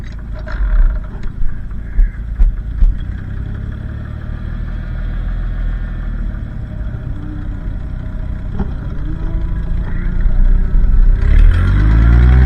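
Minneapolis Moline G900 LP tractor with a slightly stiff throttle and a small exhaust leak, its engine idling with a deep, steady, close rumble, a few chuffs early on and the revs rising toward the end.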